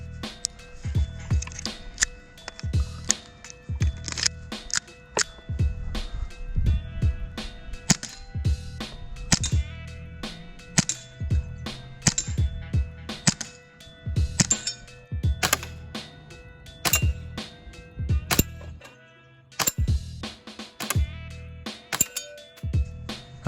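AAP-01 airsoft pistol firing semi-auto at a target 25 feet away, a long series of sharp, snappy clicks at irregular intervals, some shots close together, each followed by a faint metallic tick.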